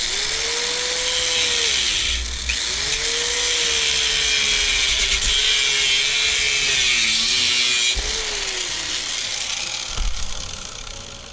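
An angle grinder runs steadily for about eleven seconds, a loud continuous whine whose pitch dips and rises as the load changes, with a brief break near the two-second mark and a drop around eight seconds.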